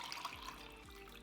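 Turkey drippings, already strained, pour into a fat separator fitted with a stopper, giving a steady close liquid trickle and splash that runs continuously without talk.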